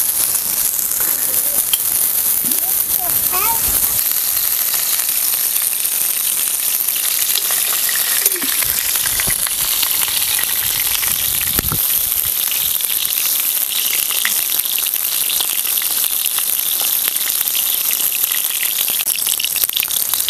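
Eggplant pieces fry in hot oil in a kadhai, a steady loud sizzle running throughout with occasional stirring noises, close up and without talk.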